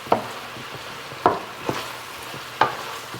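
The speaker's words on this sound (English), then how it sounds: "So we're going to give this a stir." Marinara and peas are stirred in a pan, a soft simmering sizzle broken by three or four sharp spoon knocks and scrapes against the pan, close and clear, with no talking.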